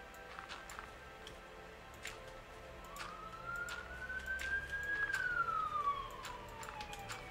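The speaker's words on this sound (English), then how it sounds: "Oh look, more sirens." A siren in the video game Minecraft gives one wailing tone that sweeps up and then falls away midway, over light ticking clicks and low background hum.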